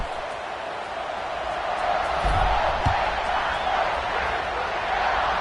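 A stadium crowd in EA Sports College Football 26 roars in a steady, distant wash, swelling briefly with a couple of low thumps midway.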